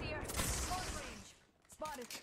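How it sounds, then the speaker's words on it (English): Rapid bursts of gunfire in a battle royale video game match, crackling volleys that fade, then a brief sharp burst near the end, with players talking over the shots. "Who's shooting it?"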